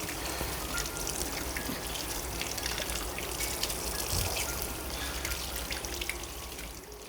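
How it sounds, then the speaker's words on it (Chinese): Warm running water rinsing blanched duck gizzards, a steady close splashing stream with no voices. "我们用温热水再冲洗一次"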